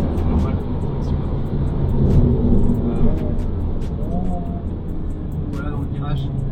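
A 2023 Honda Civic Type R driven fast through corners on a race track, its engine a steady close rumble carrying through the whole stretch, with some brief higher noises over it.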